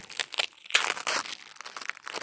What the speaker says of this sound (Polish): trochę rozdarła nam papier